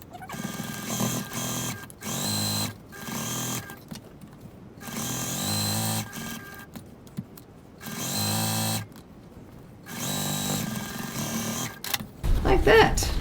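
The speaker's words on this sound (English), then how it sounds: "I'm going to stitch using a 1 centimeter 3/8 of an inch seam or thereabouts" A sewing machine runs in several bursts of about a second each, stitching a 1 cm seam to close a pocket on a travel sling bag at stitch length 2.4. The bursts are separated by pauses, and there is a handling noise at the end.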